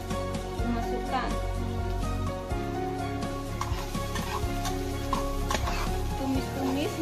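Shallots and garlic stir-frying in a pan for fried rice with dried shrimp: loud continuous sizzle with brisk stirring and spatula scrapes, and a voice heard faintly beneath.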